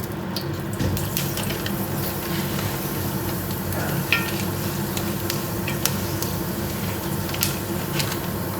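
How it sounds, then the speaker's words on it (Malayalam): A quarter teaspoon of fenugreek seeds dropped into hot oil for a curry, giving a steady, dense crackling sizzle that holds at a constant level throughout with scattered sharper pops, close by. "ഈ ചൂടായ എണ്ണയിലോട്ട് ഒരു 1/4 ടീസ്പൂൺ ഉലുവ ഇട്ട് കൊടുത്ത്"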